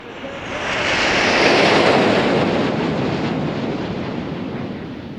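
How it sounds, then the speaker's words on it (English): Jets in diamond formation pulling a tight 3G bend at a 2010 airshow, a loud, broad engine roar that swells as they pass close and then slowly fades away. "Kirsty's flying past us now in about a 3G bend in diamond formation"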